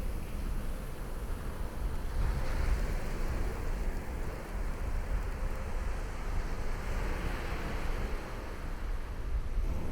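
Steady wind gusting across a sandy shoreline where shorebirds feed, a continuous broadband rush that swells and eases, with blowing sand hissing close by and no voices.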